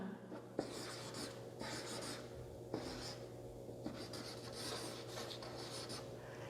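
Writing on a board comes through as a steady, faint scratchy rubbing in repeated strokes, broken by small taps as the tip touches down, with no talk over it.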